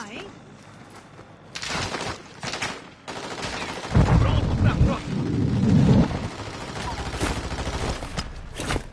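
Gunfire in the Warzone 2 video game, bursts of shots and heavier impacts rising in the middle and staying busy, with players talking over the action.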